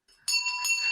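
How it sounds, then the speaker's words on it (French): Cowbells rung by spectators along a ski slope to cheer on skiers clang brightly in a short burst that starts after a brief quiet moment and continues as overlapping metallic rings. "il y a des cloches pour encourager les skieurs"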